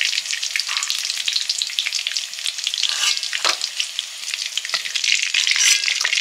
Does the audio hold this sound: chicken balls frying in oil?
yes